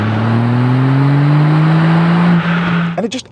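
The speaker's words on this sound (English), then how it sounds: "a Scorpion exhaust, which sounds like this." VW Up GTI fitted with a Scorpion exhaust and turbo elbow, revving loud and close with a rising drone that holds steady, then drops away as the car pulls off, with a brief voice at the end.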